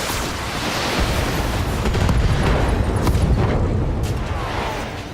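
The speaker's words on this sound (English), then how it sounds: "Let's try and do some precision shooting." Mech weapons fire in the BattleTech campaign game, a sustained rumbling barrage of booming blasts and crackling impacts that swells and holds loud for several seconds.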